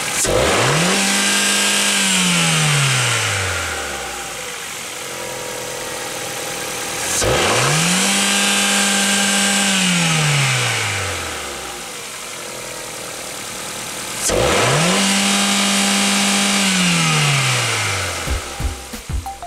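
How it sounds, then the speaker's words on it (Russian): A Ford 1.6-litre Duratec engine from a 2002-2012 Fusion revs up hard three times, each climbing to a high, steady whine before dropping back, with a loud, close idle rumble in between. "Работа двигателя на высоких оборотах."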